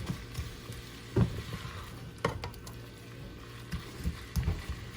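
Steak and eggs simmering in a skillet for a breakfast meal, a close, steady sizzle with soft popping bursts and occasional scraping taps scattered through.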